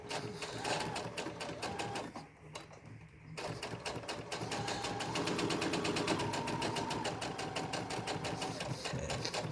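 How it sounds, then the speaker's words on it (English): A sewing machine stitching a filter pocket into a fabric face mask, running in steady rapid needle bursts with a brief pause, then a long continuous run at a constant pace, close and moderately quiet. "now I'm gonna sew the filter"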